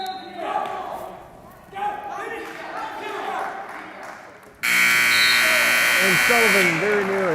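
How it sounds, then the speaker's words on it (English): A scoreboard buzzer at a high school wrestling match sounds loud and sustained in the last few seconds of the clip, following an announcer's play-by-play over crowd noise. "you can hear the buzzer in the background."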